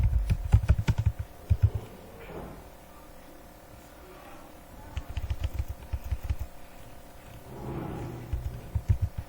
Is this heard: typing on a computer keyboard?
yes